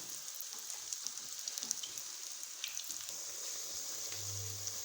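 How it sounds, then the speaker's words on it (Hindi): Radish kebabs frying in oil, a steady soft sizzle with faint crackles, close but quiet, alone without talking. "अब हम इनको फ्राई करते हैं।"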